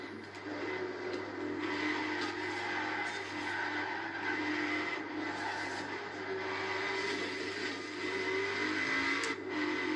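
Nissan GT-R engine revving and accelerating in Forza Horizon 4, a sustained loud mid-pitched drone holding steady throughout, with no one talking over it.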